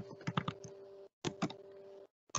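Computer keyboard keys tap in short clustered bursts separated by brief silences, close and fairly quiet, over a faint steady electrical hum.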